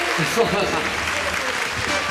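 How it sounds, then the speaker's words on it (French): Steady applause from a crowd fills the space, dense and continuous, with voices mixed in underneath. "Bravo messieurs, on peut les applaudir."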